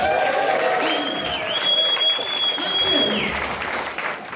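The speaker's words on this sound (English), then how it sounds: "Let me hear a round of applause again, please." A crowd at a gaming expo in Blackpool applauds steadily, a dense wash of clapping that stays loud throughout, with a high electronic whine and a voice faintly underneath.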